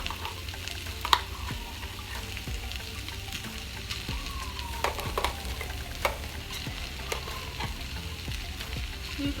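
Corned beef hash frying in a pan over a low flame gives a steady, moderate sizzle with scattered crackles and occasional scrapes of mashing and stirring, no voices.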